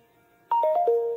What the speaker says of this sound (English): hear all my notifications, could you? Because I keep forgetting to turn them off.